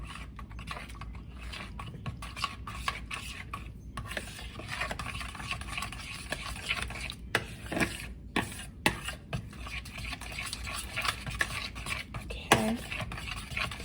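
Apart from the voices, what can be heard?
mixing sweet potato cornbread batter with a large fork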